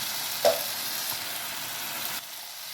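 Masala paste for an egg curry frying in oil, a steady close hiss and crackle of sizzling throughout, with a soft stirring scrape near the start.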